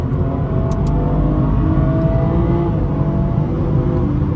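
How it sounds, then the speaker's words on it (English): BMW 440i with the B58 engine accelerating on a highway, heard from inside the car as a loud, steady engine drone and road rumble that holds constant throughout, with no one talking. "But now I'm finna drive fast."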